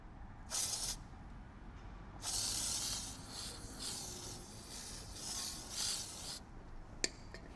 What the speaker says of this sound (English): So now let's do the chain lube and let's move this along.